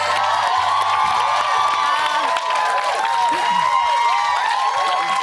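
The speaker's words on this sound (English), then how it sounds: "I think a round of applause, not for effort, but for being here" Studio audience applause with cheering for contestants, a loud, continuous roar of many clapping hands and voices that holds steady throughout.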